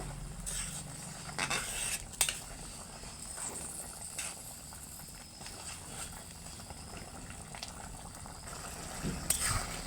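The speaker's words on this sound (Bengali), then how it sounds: "একটু নাড়িয়ে ভালো করে ফুটিয়ে নিব পাঁচ মিনিটের মতো" A pot of meat curry boils steadily, giving a continuous close bubbling and simmering hiss throughout, with a few brief louder clatters and no talk.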